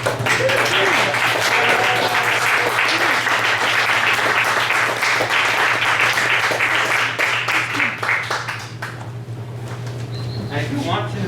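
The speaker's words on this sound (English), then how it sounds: "Applaud for them" An audience at a PRIDE edition reading series in a bistro applauds, sustained close clapping that fills the room with a low steady hum underneath, fading slightly toward the end.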